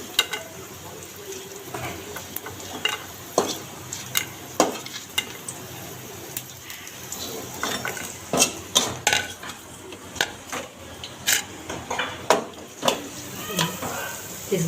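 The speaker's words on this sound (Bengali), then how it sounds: "পিসগুলো ভেজে নিই।" Pieces frying in a pan on a home stove, a soft sizzle beneath repeated clinks and scrapes of a utensil stirring and turning them, up close, with occasional faint voice in the background.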